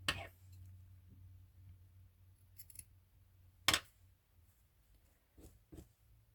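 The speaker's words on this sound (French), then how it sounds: "Là, on va venir le couper." Scissors cut through fabric while making a needle holder: one crisp, close snip stands out against a quiet room, with a few faint handling clicks around it.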